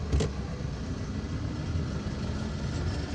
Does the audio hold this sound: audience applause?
no